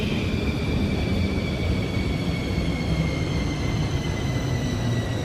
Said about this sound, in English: Here's the train, or the metro.